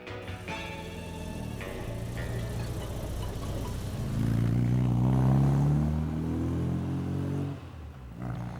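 Restored Frog Eye sports car driven along, its engine humming at moderate distance and swelling as it accelerates through the middle, then easing off, with no speech.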